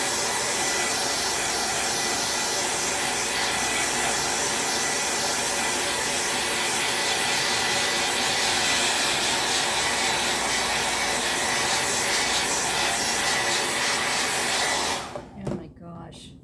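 A hair dryer blows on a craft project as a loud, steady close-up whoosh of airflow that runs unbroken for about fifteen seconds, then cuts off abruptly, leaving quiet handling noise.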